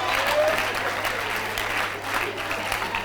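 Applause from an audience at a live stand-up comedy set at an outdoor festival, a dense steady patter of many hands at moderate distance with crowd murmur underneath, holding level for the whole stretch.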